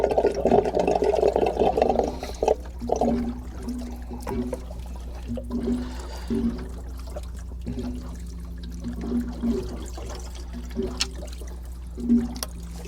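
Water drains from a pool pump after its two drain plugs are removed, starting as a loud gushing rush, then thinning into intermittent trickles and gurgling drips over a low steady hum.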